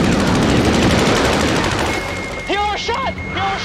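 Fighter jet gunfire in a film dogfight against MiGs: a dense, loud rattling burst of cannon fire over roaring engines, fading as a voice speaks and radio-like tones chirp.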